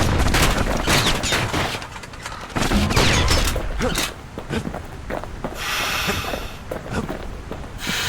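Gunfire in the action game Bastion, a string of loud punchy shots and impacts in irregular bursts, mixed with game effects and some faint talk.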